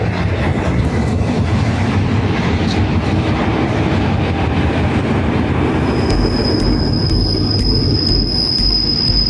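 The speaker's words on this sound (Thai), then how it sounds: "นี่ รถไฟมาแล้ว" A Thai passenger train pulls into a station on the Ratchaburi–Bangkok line, a loud continuous rumble of wheels on rails, with a high metallic wheel squeal rising near the end, no talking.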